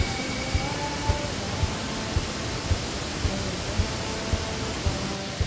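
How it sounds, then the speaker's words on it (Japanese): A powerful three-tiered waterfall plunging down a cliff in a Thai mountain tropical forest, heard as a loud, continuous broadband roar of rushing water with no voices. "断崖を流れ落ちる大迫力の滝です。"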